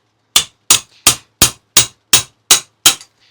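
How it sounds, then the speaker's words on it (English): Eight sharp metallic hammer strikes on a castle nut wrench, loosening a silencer hub, ring out at an even pace, each a bright clang that decays quickly, with no talking. "not using a whole lot of force to hit it with that hammer"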